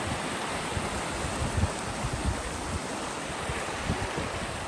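A small waterfall with clear, cold water in the autumn Carpathian mountains, a constant rushing splash that stays steady and fairly close throughout, with no voices.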